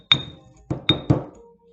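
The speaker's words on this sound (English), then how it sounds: "I'm going to smash them down there. Sorry for the hammering." A hammer strikes red bricks, breaking them down toward powdery dust; four sharp, close impacts land, one alone followed by a quick cluster of three, each with a brief ringing clink.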